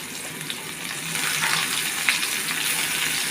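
Chopped onions frying in a pan for chichinga, a steady close hiss and sizzle that swells slightly partway through, with no talking.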